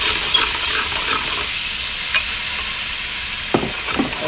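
Spices fry in hot oil in a pot for a seafood legumes dish, giving a loud, steady sizzle with a few stirring clanks near the end and no voices.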